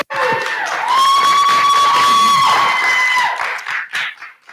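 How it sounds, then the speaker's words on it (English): An audience gives a round of applause and cheers for a speaker named Kendall at a professional presentation event, the clapping and crowd noise loud and sustained for several seconds before tapering off near the end. "let's give one more round of applause for Kendall"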